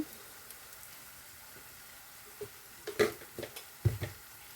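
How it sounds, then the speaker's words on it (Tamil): Onions frying in a pan with Jaffna curry powder for a vegan chickpea curry, a faint steady sizzle broken by a few louder stirring scrapes toward the end. "வெங்காயம் நல்லா வதங்க வேணும் கறிக்கு தேவையான அளவு யாழ்ப்பாணத்து கறித்தூள் போட்டிருக்கிறேன்"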